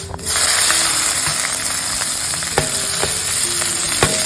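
Onions and dried red chillies sizzle steadily in a hot pan for potato podimas, a loud, close, continuous frying hiss with occasional scraping taps of a spoon and no talking.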